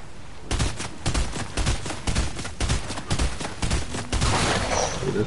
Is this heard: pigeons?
no